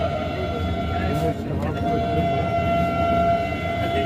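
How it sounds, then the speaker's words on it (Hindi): Steady rumble and rushing roar of a Vande Bharat train at around 95 km/h overtaking the Amrapali Express, heard from on board, loud and continuous, with a passing whoosh midway and tonal hum. "95 की स्पीड पर आम्रपाली का ओवरटेक हुआ है।"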